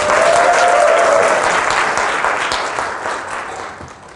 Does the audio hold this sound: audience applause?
yes